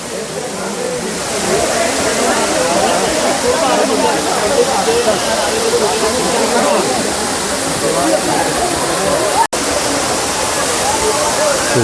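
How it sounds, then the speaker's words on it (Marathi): The Bee Fall waterfall at Pachmarhi roars as a loud, constant broadband rush of falling water close by, with a voice talking over it. "तेवढा सुंदर दिसणारा हा बी फॉल म्हणजे एक मोठा धबधबा आपण पाहू शकता"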